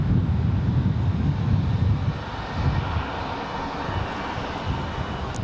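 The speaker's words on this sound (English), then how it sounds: "So Aero Mexico ready to go here at the end of the runway." An Aeromexico Embraer E190 jet powers up for departure at the end of a runway at Raleigh-Durham International Airport, its engines producing a steady, broad roar at moderate distance that eases slightly partway through, with no voices.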